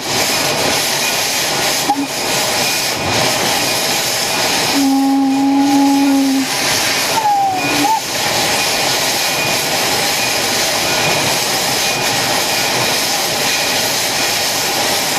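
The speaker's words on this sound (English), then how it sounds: "the engineer of number 3 turns on the blower, which then sends some water out the stack" A loud, continuous roaring hiss of steam from a steam locomotive's blower venting through the stack fills the air close by, with a brief low whistle tone sounding midway.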